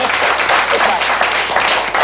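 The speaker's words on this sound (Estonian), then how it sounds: "teeme aplausi" An audience at a live comedy talk show claps together in a loud, close, continuous burst, thick and unbroken for the short stretch.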